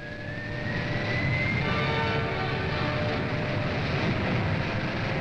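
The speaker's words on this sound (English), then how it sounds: "The Air Force's first supersonic jet fighter, capable of low-level flight faster than sound, hurtles into the sky." An F-100 Super Sabre, the Air Force's first supersonic jet fighter, roars loudly as it climbs into the sky. A broad, steady jet rush swells within the first second and holds through the end, with no voices.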